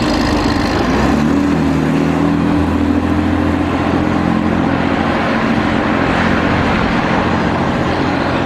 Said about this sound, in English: RF28 approaches East Grinstead High Street from Lewis Road in April 2013.